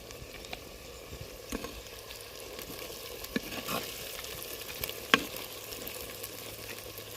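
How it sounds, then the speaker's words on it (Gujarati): Spiced curry being stirred in a pan for Kathiyawadi cooking, a steady close sizzle with soft scraping stirs and a few brief clinks, no voices. "હવે આપણે એને હલાવી લઈએ."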